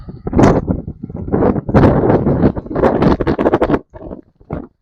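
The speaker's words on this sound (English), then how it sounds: "Oh my gosh, it's so windy. Y'all are gonna hear it in my microphone." Loud, irregular bursts of wind blasting directly into the microphone during a severe rainstorm in Central Texas, rumbling and crackling in uneven gusts with brief pauses.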